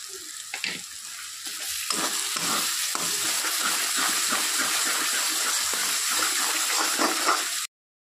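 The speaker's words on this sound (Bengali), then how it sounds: "তো মশলাটা ভাজা হয়ে গেছে।" Spice paste with salt and sugar frying in a pan for banana-flower ghonto with fish head, a continuous close sizzle with frequent spatula scrapes and stirring clatter throughout.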